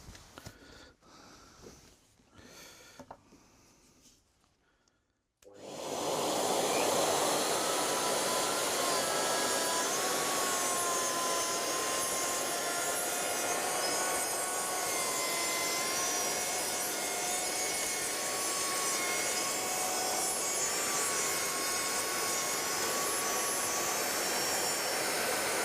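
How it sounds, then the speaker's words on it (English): Router cutting a groove along the edge of solid oak with dust extraction running: a sudden loud, steady high whine and roar that starts after a few seconds of quieter handling noise and holds constant to the end. "We have extraction here, which will kick in once I start the router."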